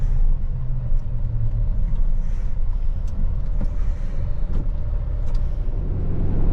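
A vehicle driving along a road through an industrial area of warehouses and factories in Japan, with a steady loud low rumble of engine and tire noise throughout, close and continuous.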